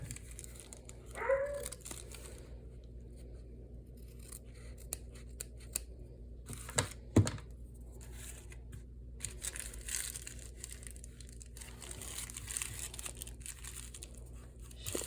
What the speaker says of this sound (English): we're going to trim out some of this corner material so that it's not so bulky in the corner